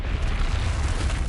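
The Revelio revealing spell cast in Hogwarts Legacy gives off a steady, dense magical whoosh with a deep rumbling roar that holds level for its short length, heard alone.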